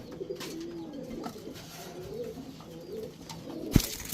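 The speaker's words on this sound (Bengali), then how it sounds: "এখন দেখাবো ছাড়াছাড়ি লাইনের এক জোড়া নাপ্তা কবুতর" A pair of Naptha high-flyer pigeons, a male and female, coo softly and repeatedly at close range over a steady low background hum.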